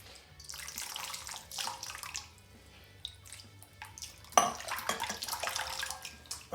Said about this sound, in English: by pouring a bit of water over the top